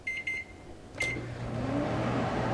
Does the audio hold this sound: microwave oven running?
yes